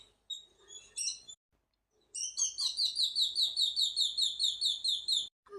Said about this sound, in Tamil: ஏதோ வெளியில் குருவி கத்துற சத்தம் கேட்குதுமா.